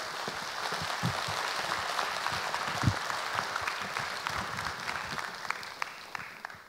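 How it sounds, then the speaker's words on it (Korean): An audience at a citizens' talk concert on traffic courtesy claps for a guest being introduced: a sustained, fairly close round of applause from a sizeable crowd with a few louder claps standing out. "박수 부탁드리겠습니다"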